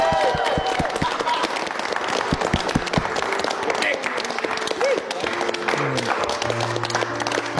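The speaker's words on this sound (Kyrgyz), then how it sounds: "бир катуураак кол чаап коелу" Loud, dense applause from a gathered audience fills the whole stretch, with clapping mixed with crowd noise and some music-like tones toward the end.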